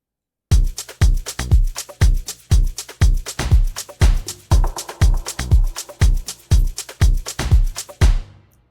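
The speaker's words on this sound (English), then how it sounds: "The first one, it's a plug bass." A plug-style bass line for an Afro house track pulses in a steady run of short, deep, punchy notes, loud and up front, with no voices.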